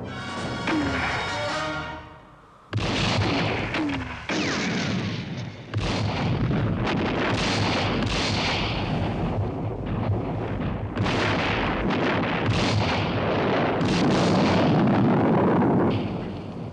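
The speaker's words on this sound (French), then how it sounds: "notre tir de mortier a touché leur mine" Mortar fire sets off a mine in an old espionage film, with a chain of loud, close explosions and deep booming blasts that follow one another over roaring debris and rumble.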